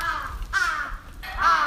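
A crow caws twice in loud, harsh bursts, close by, after making off with a piece of salmon outdoors.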